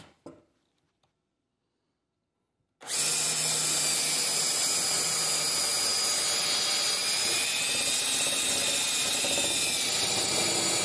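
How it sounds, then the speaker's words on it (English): After a few quiet seconds, a power drill starts up with a loud, steady whine, drilling dowel holes through a Stanley No. 59 doweling jig with a drill stop, running without a break to the end. "you then drill your holes."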